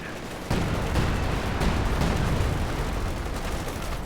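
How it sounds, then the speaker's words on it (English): A heavy artillery barrage lands in Company of Heroes 2 as a sudden loud onset of dense, continuous rumbling blasts that stay sustained and roaring to the end, with no talking. "Major artillery did come down."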